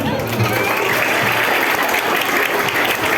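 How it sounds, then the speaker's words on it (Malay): Schoolchildren at an anti-bullying talk in a primary school give loud, close, continuous applause, a crowd of small hands clapping together with a murmur of young voices underneath. "Bagi tepukan."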